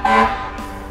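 A fire engine's air horn gives one loud, tonal blast that rings for about half a second and fades into a lower rumble, close by with no voices.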